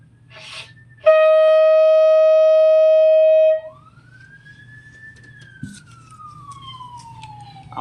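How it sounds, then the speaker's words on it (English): A loud police siren blares in a steady tone, then drops out and returns as a slow rising and falling wail, heard from outside with no talking. "there's a lot of police sirens out there"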